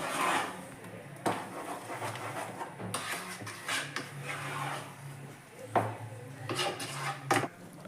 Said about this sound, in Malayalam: അത് വീണ്ടും നമ്മളൊന്ന് ടൈറ്റായി വരുന്നിടം വരെ നല്ലതുപോലെ ഇളക്കി കൊടുക്കണം